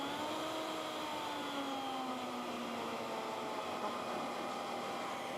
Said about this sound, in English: I start it at its slowest setting and move it up till it sounds just about right